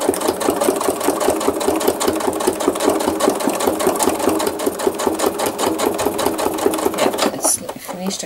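A sewing machine stitching thread art runs steadily at close range, its needle clattering in a fast, even rhythm while the bobbin runs low, then slows and stops near the end.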